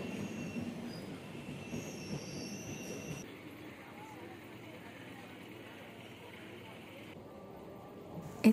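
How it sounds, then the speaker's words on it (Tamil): Steady rumble of a train rolling in with faint high metallic squeal from the wheels, then quieter station ambience as it slows. "Waiting for train."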